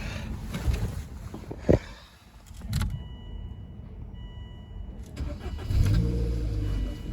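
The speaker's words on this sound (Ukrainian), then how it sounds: "Заводиться автомобіль без проблем." A Volvo S40 1.6 MPi sedan is started: a starter whirr, then the engine catches and settles into a steady close idle, with some clicks and a louder rev near the end.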